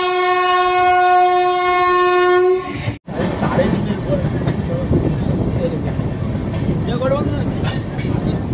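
The Kumbh Express sounds a long, loud horn, then settles into a heavy, steady rumble and clatter of a train running on rails near Chittaranjan, heard from on board.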